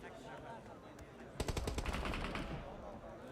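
In a PUBG Mobile Global Open esports match, a rapid string of gunshots rattles out in one dense burst around a warehouse, over a constant background of game ambience and caster commentary.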